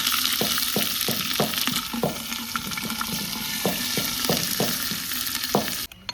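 Garlic, ginger and onion paste frying in a clay handi over a wood-fired chulha, a steady sizzle with rhythmic scraping strokes of a stirring spoon, close up and without voices until it cuts off near the end.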